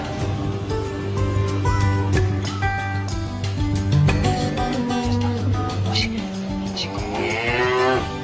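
Wagyu cattle on a Japanese farm moo loudly and close by, several long, drawn-out calls overlapping one after another, with other animal noises layered in the background.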